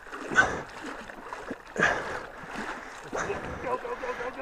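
A KLR650 motorcycle is pushed through deep river water, with sloshing splashes and surges of water around the bike while people talk and call out over it.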